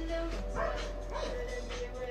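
A dog gives a few short yips and whimpering barks indoors, fairly close, over a low steady hum.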